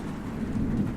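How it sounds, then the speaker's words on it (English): Heavy thunderstorm rain pelts a car in a steady, dense wash with a low rumble beneath, continuous and fairly loud throughout. "there was a terrible thunderstorm, and rain was pelting the car."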